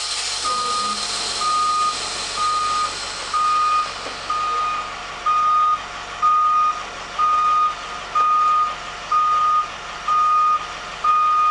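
A Class B school bus backing up during a parallel parking maneuver sounds a loud, steady reversing alarm, about a dozen evenly spaced beeps over a low idling engine rumble.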